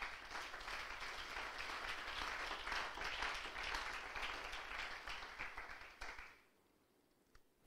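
A church congregation applauds in a sustained, dense burst of clapping that holds steady for several seconds, then fades quickly into near silence.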